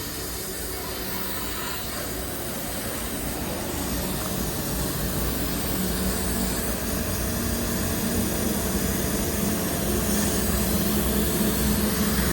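A pressure washer motor runs steadily while spraying water on a car, giving a continuous dense hiss and roar that builds slightly and holds for the whole stretch with no talk.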